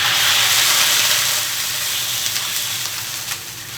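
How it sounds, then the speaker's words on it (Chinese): Water hitting a hot pot of oil and spices gives a loud burst of hissing sizzle that slowly settles into steady bubbling frying, with no talk. "加水"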